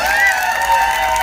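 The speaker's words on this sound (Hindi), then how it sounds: "जोरदार तालियां एक बार" An audience at a ceremony applauds, with crowd noise and some cheering blended into a loud, continuous wash of sound, and no speech over it.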